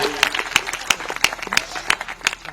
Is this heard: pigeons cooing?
no